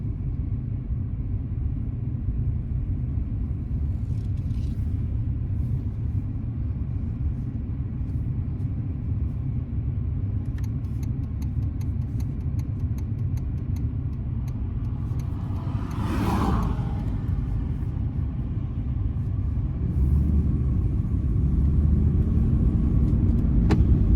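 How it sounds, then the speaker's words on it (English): A 1995 Lincoln Continental on a test drive, with a low steady interior engine and road rumble, a brief sharper noise midway, and a slight swell in level toward the end. "we're going to take a test drive in the Continental."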